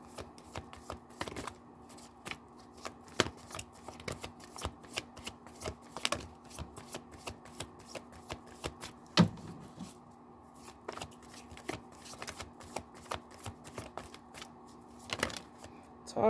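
Tarot cards being shuffled by hand, a steady run of crisp riffling flicks and soft slaps repeating close up through the whole stretch, with a quiet steady hum beneath.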